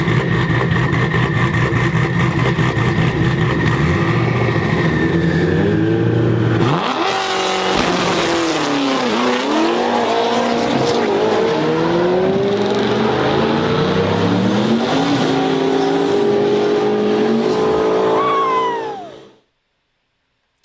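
Stick-shift car from the Coyote-swapped ZR-1 build accelerating hard on a race run, its engine climbing through rising revs with a clear gear change partway through, loud and close, then cutting off abruptly.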